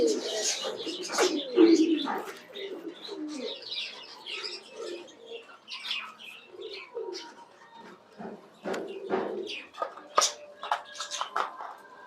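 Fancy pigeons on a farm coo repeatedly in soft, throaty bursts mixed with a few chirps, fairly close, while someone talks at intervals.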